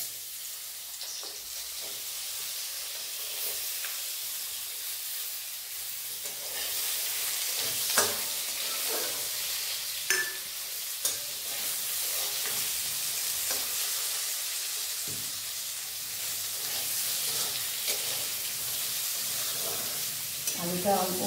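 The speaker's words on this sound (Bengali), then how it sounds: "এই জন্য আলুটা একটু ভেজে নিতে হবে" Diced potatoes sizzle steadily in hot oil in a pan for a Bengali fish-and-green-tomato dish, a constant close frying hiss broken by a few soft clinks and stirring scrapes.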